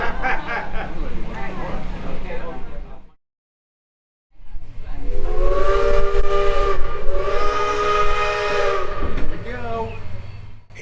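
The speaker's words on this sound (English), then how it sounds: "the conductor has given the signal to engine 110 to proceed to Quincy" Steam locomotive engine 110 sounds its whistle as the train departs, a loud sustained blast near the start and a longer, harmonically rich whistle after a brief break, with people talking nearby.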